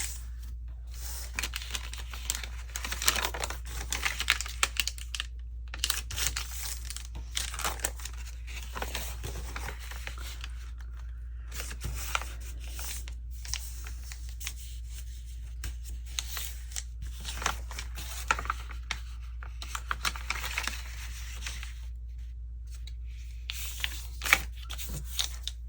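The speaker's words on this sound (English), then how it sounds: "So I'm going to fold these pages and I'm going to round the corners." Journal pages being folded and corners rounded with a 1/2 inch corner punch, giving a steady run of soft paper crinkles, shuffles and crisp snips at close range over a low background hum, with no talking.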